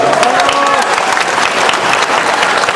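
An indoor audience at a gathering claps steadily and loudly for a standing guest, a dense, even wash of many hands throughout with faint voices underneath.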